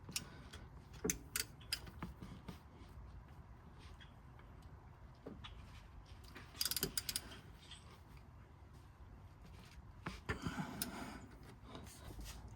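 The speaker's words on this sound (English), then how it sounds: "Went ahead and threw an extension on my ratchet here to make it a little bit easier to access." Soft, irregular ratchet clicks from a ratchet with an extension turning a differential plug on a 2013 Subaru Outback, with scattered metallic ticks and a brief louder burst of clatter partway through.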